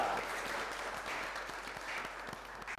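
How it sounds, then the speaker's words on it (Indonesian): A classroom audience claps for a student group after its presentation, a steady, moderately loud patter of many hands sustained throughout with no voices over it. "kita beri aplaus untuk kelompok 2"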